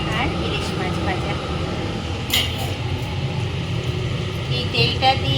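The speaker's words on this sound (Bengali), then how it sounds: "আর ইলিশ মাছ ভাজা।" Hilsa fish sizzling in hot frying oil in a home kitchen, a continuous close crackle with a few sharper pops, partly under a speaking voice.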